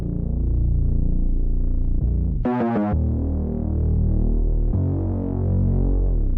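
Distorted bass from a sample kit in a dark hip-hop beat: a sustained, buzzing low drone that throbs steadily, shifts pitch in half steps, with a brief brighter tonal stab in the middle, loud and alone.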